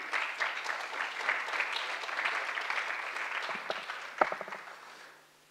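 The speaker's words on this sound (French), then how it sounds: "on peut les applaudir, Isabelle, Jean-Philippe et Philippe." A crowd applauds steadily, a dense wash of clapping that gradually fades out, with a few louder individual claps near the end.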